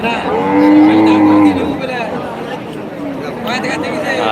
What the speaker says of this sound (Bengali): দেখতে পাচ্ছি এই মুহূর্তে একটি গরু